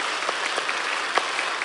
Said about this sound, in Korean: 우리의 축복에 축하의 박수를 드리겠습니다.